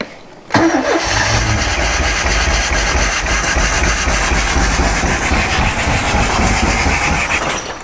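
An old engine cranks briefly, then catches and settles into a steady, loud idle that runs unbroken for several seconds, close by and with no voices over it.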